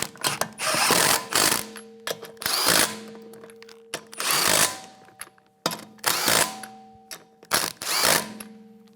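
Lug nuts on a 2013-2017 Honda Accord are snugged down during a rear sway bar link job, with loud, close bursts of power-tool whirring and ratcheting repeated several times around the wheel.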